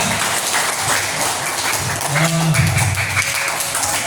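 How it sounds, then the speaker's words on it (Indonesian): An audience of students applauding in a school hall during a scouting orientation session, a dense wash of clapping that swells, with voices and cheering mixed in. "Oke, mantap, tepuk tangan dulu,"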